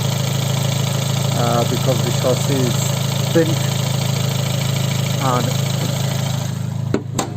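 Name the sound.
Abarth 124 Spider 1.4 turbo engine running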